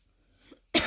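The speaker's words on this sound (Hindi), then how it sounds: "बार बार खांसी हो रही है बनाते हुए।" A single sharp cough bursts out near the end after near silence, loud and close, preceded by a faint breath.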